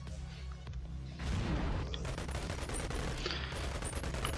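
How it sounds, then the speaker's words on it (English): SMG gunfire in the VR game Boneworks, rapid bursts of shots that thicken into a dense continuous rattle after a short quieter opening, fairly faint in the mix. "SMG is pretty good against those guys"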